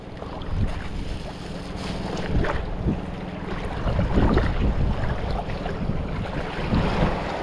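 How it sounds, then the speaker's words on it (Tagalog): Strong sea waves churn and slap around a small fishing boat off Calatagan, Batangas: a loud, continuous rough wash of water with gusting wind buffeting the microphone and irregular heavier splashes. "Masyadong malakas ang alon."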